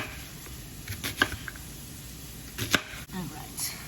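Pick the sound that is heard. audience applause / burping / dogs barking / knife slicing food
knife slicing food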